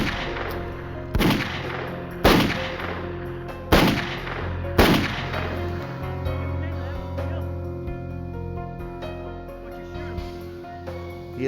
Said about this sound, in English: Suddenly, Dallas was firing a gun.